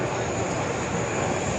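An airplane passes overhead near Niagara Falls, a steady broad roar that fills the short stretch at constant loudness with no voices.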